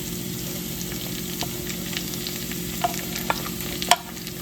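Ginger, garlic and curry leaves frying for chicken sukka, a steady close sizzle with light stirring scrapes and a few small pops and crackles, no voices.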